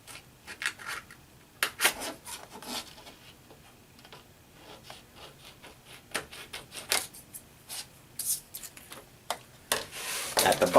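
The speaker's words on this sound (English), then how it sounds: "I take a pair of scissors and cut across" Scissors snip across laminate film covering a library paperback book, a series of short, crisp cutting strokes in irregular rhythm, close and fairly quiet with no talk.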